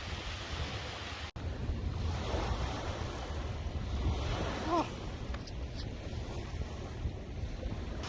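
Wind gusts steadily across the microphone on Thulusdhoo, a local island in the Maldives, after a rain shower, with a continuous buffeting rush and surf-like noise underneath.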